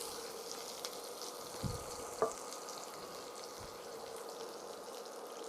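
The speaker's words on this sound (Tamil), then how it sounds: "கருவேப்பிலை, இதெல்லாத்தையும் எண்ணெயில் நல்லா வறுத்துக்கிறோம்." Curry leaves, ginger and seasoning for a dhokla tempering fry in hot oil, making a faint steady sizzle with a couple of soft knocks and a spoon tap partway through.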